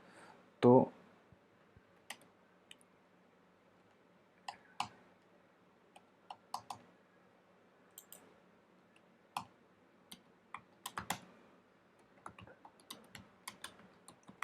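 Mouse and keyboard clicks while working in the Obsidian note app: scattered light, crisp clicks spread irregularly over a quiet room, mostly single taps with a few quick clusters, plus one brief louder thump near the start.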